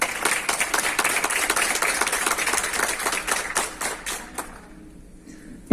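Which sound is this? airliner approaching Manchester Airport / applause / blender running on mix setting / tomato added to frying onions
applause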